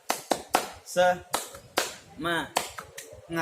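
Sharp hand claps land in a quick patterned rhythm, alternating with chanted syllables from a nearby voice, in an Indonesian 'tepuk semangat' clapping chant for a primary school PE class.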